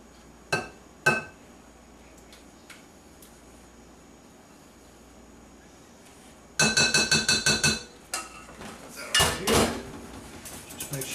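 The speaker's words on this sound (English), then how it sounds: "put this into a separate bowl, get it out of this pot here" Thick custard is scraped and poured out of a pot into a separate bowl: a few sharp clinks of a spoon on metal, then a burst of rapid scraping and clattering against the pot, followed by more knocks.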